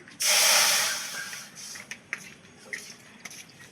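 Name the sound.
water poured into a hot wok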